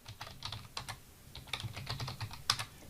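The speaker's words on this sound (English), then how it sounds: "go across to Google and type in the name of the" Steady typing on a computer keyboard, a rapid run of light plastic key clicks with a sharper tap near the end, close and fairly quiet, with no voices.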